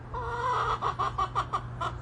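A chicken clucks close by in a quick run of short, bright notes, with a steady low hum underneath.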